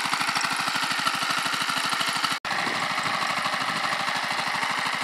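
An electric motor drives an induction generator through a belt that jumps because the motor pulley sits slightly sideways, giving a loud steady mechanical whir with a fast regular slap-like pulse, broken by one brief dropout midway.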